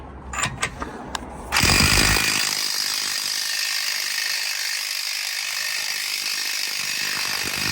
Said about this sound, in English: But I'm going to take off now the axle nut.